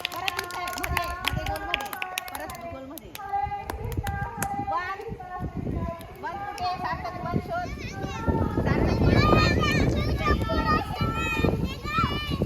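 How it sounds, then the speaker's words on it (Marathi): Children clap their hands in a classroom number-learning game. Bursts of clapping mix with lively children's chatter and movement, and the noise builds louder toward the end. "टाळ्या वाजवा."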